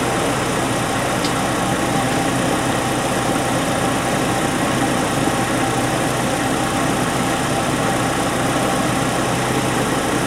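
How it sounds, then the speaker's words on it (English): A car engine idles with a misfire from one disconnected fuel injector, giving a steady, loud, broadband rumble that runs alone for the whole stretch with no voices. "I'm going to disconnect an injector. And so now we have a misfire."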